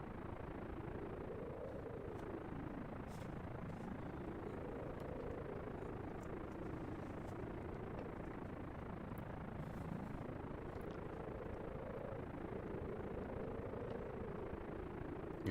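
Aircraft engine drone from a plane flown in a space flight video game, a steady loud rumble with slow rising and falling swells throughout, no talking.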